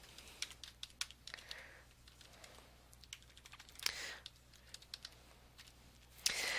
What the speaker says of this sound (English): And to add to it, you would just keep on typing.